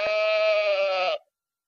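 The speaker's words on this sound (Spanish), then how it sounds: "Oveja." A single sheep bleat on a farm, loud and close, a wavering tonal cry lasting just over a second before it stops abruptly into silence.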